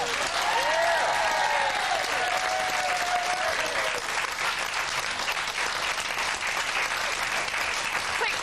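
A studio audience applauds and cheers steadily for David Hasselhoff on a 2004 television talk show, a dense continuous wash of clapping with a few whoops rising early on, holding at full loudness throughout.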